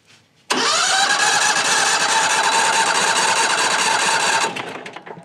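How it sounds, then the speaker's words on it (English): A 670cc engine on a Frontier OS35 sawmill, cold on a 26-degree day, cranks and catches abruptly, then runs at a steady loud, buzzing idle for several seconds before tapering off. "It's just a 670cc engine."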